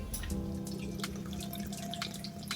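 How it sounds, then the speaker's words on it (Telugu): Water pours steadily into a pot, one and a half cups for ginger pickle, a close, continuous gurgling stream with a few scattered drips and clinks, no talking. "ఇదే గిన్నెతోని వన్ అండ్ హాఫ్ వాటర్ వేయాలి"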